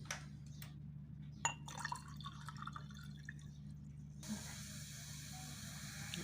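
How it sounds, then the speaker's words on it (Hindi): Water pours into a homemade cola drink in a glass, a soft dripping and filling trickle that runs fairly quietly, with no talk. "अब इसमें पानी डाल लेंगे।"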